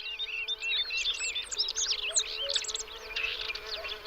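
Dense insect buzzing around flowers on the Iberian steppe, a steady close hum of flies and bees with a few faint bird chirps mixed in.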